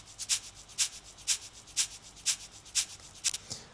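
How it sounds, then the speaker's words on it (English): Granulated breakfast sugar shaken as a shaker, giving a crisp, rhythmic, gritty rustle that repeats in even, evenly spaced pulses about twice a second, close and fairly quiet with nothing else heard. "I decided to use this sugar as shaker here"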